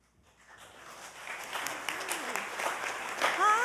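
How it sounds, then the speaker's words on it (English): Applause from a congregation at a Unitarian Universalist Sunday service as a rabbi comes up, swelling from quiet into sustained clapping across the room, with some faint voices mixed in. "It's so nice to receive applause before you even do anything."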